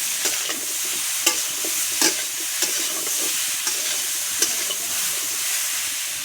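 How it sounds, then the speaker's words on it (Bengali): Cauliflower and potatoes fry with turmeric in a pan, giving a steady sizzle throughout with sharp scraping stir strokes at irregular intervals, close and fairly loud. "সুন্দর করে ফুলকপিটাও আলুর সঙ্গে ভাজা করে নেব একসঙ্গে।"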